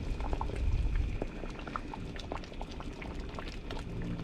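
A canning kettle at a rolling boil, with a steady bubbling and popping of water up close, louder in the first second and then a continuous gurgle with no talking.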